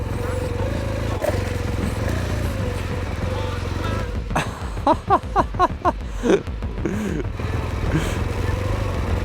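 A BMW R1200 GS motorcycle being ridden, its engine drone steady and close throughout, with a stretch of rhythmic bumps and revs midway as it goes over rough ground, and a rider talking over it.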